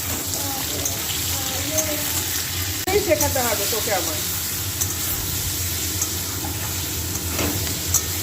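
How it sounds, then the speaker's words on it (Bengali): Potatoes and broccoli fry in a pan with a steady close sizzle and some stirring scrapes, while a person talks over it in places. "ভালো করে ভেজে নিয়ে সবজি ভালো করে ভাজতে বন্ধুরা তরকারি স্বাদ ভালো হয়"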